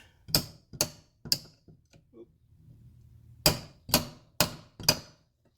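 A wrench being hammered onto a nut while working on a Toyota 7.5-inch differential, seven sharp metallic strikes in two groups, three then a pause then four, close and ringing.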